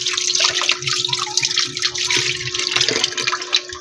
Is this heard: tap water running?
yes